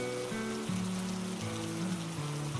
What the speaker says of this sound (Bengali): সন্ধে হয়ে গেল বৃষ্টি আরও বেড়ে গেল